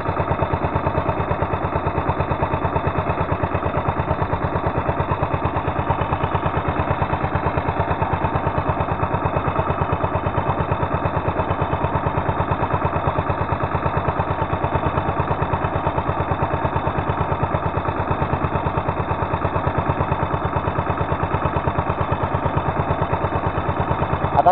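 A boat engine runs steadily and loudly with a constant low throb, still not fully repaired, and no voices are heard over it.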